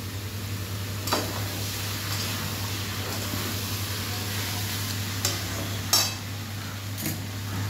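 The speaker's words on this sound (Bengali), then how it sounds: "তো আলুটা একটু ভালো করে ভেজে নেবে।" Potatoes frying in a pan, a soft continuous sizzle under a steady low hum, broken by a handful of sharp utensil clinks and scrapes as the pieces are stirred.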